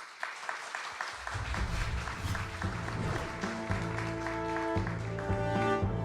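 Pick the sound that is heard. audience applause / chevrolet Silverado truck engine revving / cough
audience applause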